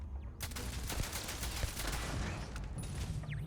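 Turrets fire in the video game Starfield, a steady rattle of rapid gunfire with crackling impacts, fairly faint and continuous throughout, with no talk.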